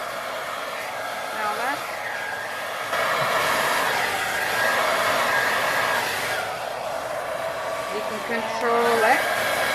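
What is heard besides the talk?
hair dryer blowing over resin on canvas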